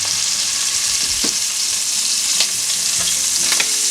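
Sliced andouille sausage fries in a pan of rendered bacon fat, a loud steady sizzle with occasional scrapes and clicks of stirring over the top.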